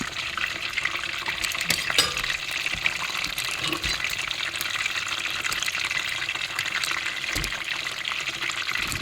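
Thai spring rolls (po pia) frying in hot oil, giving a steady dense sizzle and crackle that runs evenly throughout with a few soft clinks, no voices.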